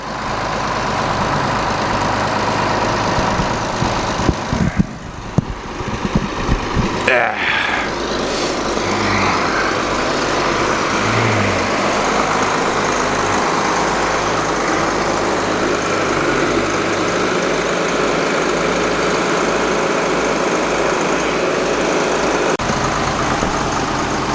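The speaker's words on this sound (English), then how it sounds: "that's the old school compact track loader before track loaders were cool" An old compact track loader, a small crawler loader, idles on a farm during manure spreading with a steady low engine rumble. A few clanks and knocks come early on, then the engine runs on evenly with no speech.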